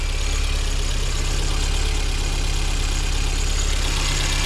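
A 1982 Porsche 924 engine idles steadily up close, its low rumble overlaid by a fast, even ticking clatter from the rocker arms, with no voices.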